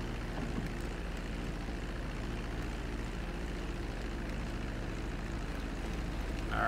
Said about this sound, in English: Taxi the plane into the hangar.